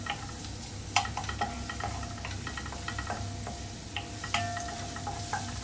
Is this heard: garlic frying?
yes